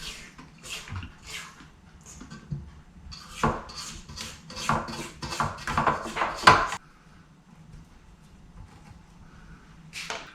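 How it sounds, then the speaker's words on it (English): A spatula scrapes cake batter off a stand mixer paddle and down the bowl for a layer cake: a close series of short scraping and knocking strokes, a busy run of them in the middle, then quiet. "Scrape off the paddle, scrape it down."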